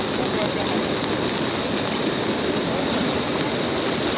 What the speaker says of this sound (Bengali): এখানেও তো কি পানির স্রোত